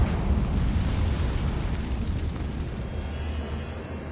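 A loud, sustained explosive roar from a Confringo fire spell in Hogwarts Legacy fills the whole span with dense rumbling crackle, then eases slightly toward the end.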